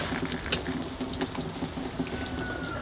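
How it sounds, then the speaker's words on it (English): Water runs steadily from a tap or watering source over freshly planted oak acorns in a pond basket of soil, a continuous close gushing flow with no talking. "Then I'll give them a water."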